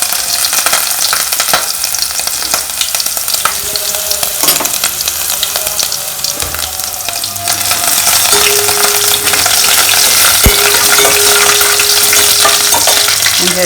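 Chopped garlic and ginger frying in hot oil for a Kerala-style egg curry, a steady loud sizzle with stirring scrapes and clatters throughout, no talking.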